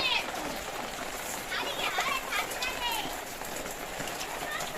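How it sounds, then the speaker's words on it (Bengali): Steady rain falling in a village, soaking a concrete road with a broad, even hiss throughout, while children's voices and an adult calling out sound faintly in the background. "এই বৃষ্টির আনন্দটা সাদিক একাই নিচ্ছে।"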